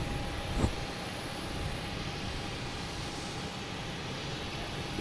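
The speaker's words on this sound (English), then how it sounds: "a Boeing 737 coming in from New Orleans" A Delta Boeing 737 jet arriving from New Orleans at Boston Logan Airport, heard as a steady, moderate background roar with a faint whine, plus one brief sharp tick early on.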